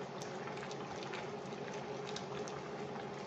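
A pot of Cuban-style pig's feet with chickpeas and cabbage simmering steadily, a dense, even bubbling and gentle popping that stays constant and fairly close with no voices.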